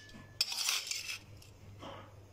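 Eggs are stirred with masala in a bowl, making a short burst of metal utensil clinking and scraping that fades to a quieter scrape near the end.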